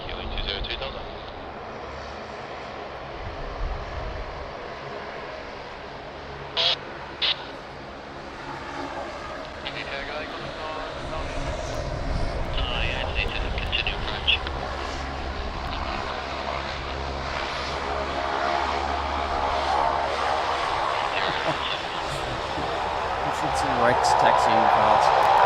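A fixed-wing airliner arrives on runway 16 left at Sydney Airport, its engine roar building steadily and growing louder toward the end of the stretch, with radio-style voices talking over it.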